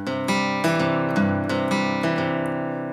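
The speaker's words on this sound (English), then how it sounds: "Unmuted, it would sound like this." An unmuted electric guitar chord is picked one string at a time, each note ringing on and overlapping the next in an even sequence of clear plucks, played alone.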